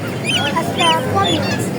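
Several chickens and ducks cluck and squawk at once at a busy, crowded village poultry market, with faint voices in the background.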